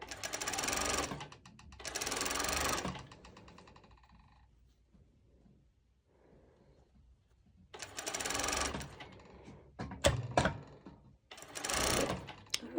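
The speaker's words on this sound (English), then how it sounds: "And I just simply top stitch it" A sewing machine topstitches a twisted knot skort with built-in bottoms, running in several short, steady bursts separated by pauses and a few sharp mechanical clicks, close by with no talking.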